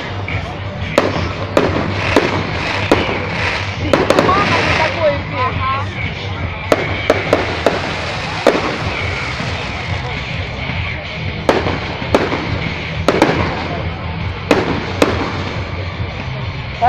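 City Day fireworks in Chernyakhovsk on a foggy night burst in sharp, scattered bangs at irregular intervals, some near and some farther off, while people talk quietly in between.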